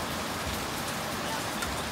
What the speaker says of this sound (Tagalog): malakas na kasi yung ulan